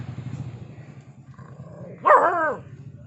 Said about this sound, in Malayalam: എന്തിനാ കുരയ്ക്കുന്നേ?